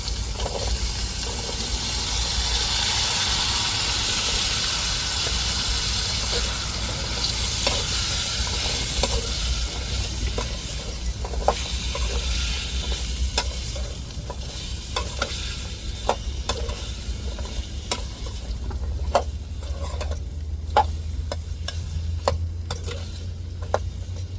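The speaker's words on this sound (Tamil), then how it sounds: "தக்காளி வெங்காயமும் நல்லா வதங்கணும்" Onions and tomatoes sauté in a pan for tangy okra tamarind curry, a steady loud sizzle with repeated scraping stir clicks growing sharper toward the end, no voices.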